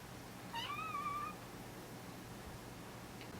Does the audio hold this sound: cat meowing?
yes